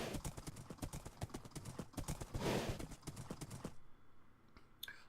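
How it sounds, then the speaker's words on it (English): Horse hooves clip-clop in a steady rhythm on a long built road in a video game, loud and close, then fade near the end. "Just to take my horse out and go for a nice ride."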